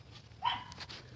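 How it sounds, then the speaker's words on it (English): A dog gives one short, fairly high bark at a distance, followed by a faint softer yelp, over a quiet background in a garage setting. "sorry about that dog"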